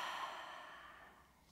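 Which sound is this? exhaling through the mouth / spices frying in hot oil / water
exhaling through the mouth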